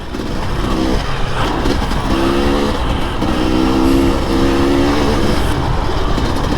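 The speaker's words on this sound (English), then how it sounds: "this 300 XCW TPI is the easiest bike to ride out there" A KTM 300 XC-W TPI two-stroke dirt bike engine drones steadily and loudly throughout, its pitch lifting and falling in a few short surges as the rider works the throttle.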